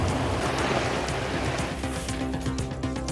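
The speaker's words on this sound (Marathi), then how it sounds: "आज पुन्हा एकदा पावसानं जोरदार हजेरी लावली आहे" Heavy unseasonal rain, with stormy wind, falls in Latur district as a dense, continuous roaring hiss that stays steady and loud throughout, with no voices.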